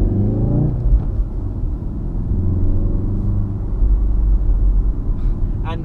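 A Mk7 VW Golf R's engine and exhaust, a loud steady low rumbling drone that holds nearly level for several seconds, with a voice speaking over it.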